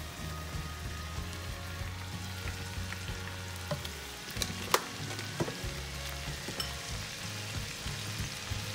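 Lemon butter sauce with lemon juice heating toward a first boil in a pan, a steady soft sizzle and bubbling crackle with small pops throughout, close and moderately quiet, no talking.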